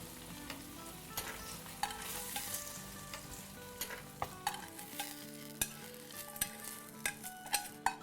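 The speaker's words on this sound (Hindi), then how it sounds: "चलो तड़का जाओ, हमारी दाल को खुशबूदार कर दो।" Spices tempering in hot oil for daal sizzle and crackle continuously, with close stirring clicks and scrapes throughout, loud and near with no talking.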